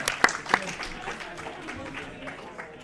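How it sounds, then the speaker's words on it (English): Audience applause at a Tetris tournament side stage, a brief burst of clapping from a modest crowd that tapers off quickly, with someone speaking over it. "Round of applause, everyone."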